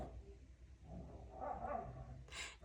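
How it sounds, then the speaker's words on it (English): The neighbours' dogs scuffle next door, with a few growls and a muffled yip or bark heard faintly at a distance against a quiet background. "Dogs fighting. It's a dog fight."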